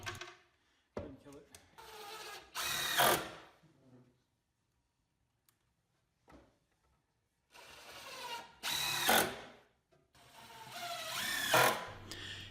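A power drill drives GRK cabinet screws into wood. Several loud, close whirring bursts rise in pitch and end abruptly as each screw seats, separated by quiet pauses.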